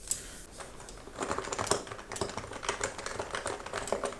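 Steady typing on a Happy Hacking Pro Hybrid Type S keyboard with soft, dampened keystrokes in a quick irregular rhythm, close by and fairly quiet, no speech.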